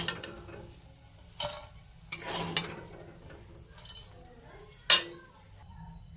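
A metal utensil scrapes and clinks against a pan as fried soybean chunks are lifted out, with a few sharp knocks standing out over a low background hum.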